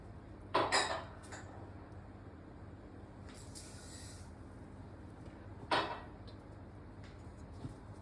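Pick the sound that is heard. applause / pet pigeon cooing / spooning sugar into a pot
spooning sugar into a pot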